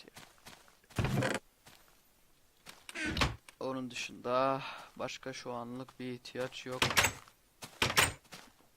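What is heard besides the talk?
door closing in Minecraft video game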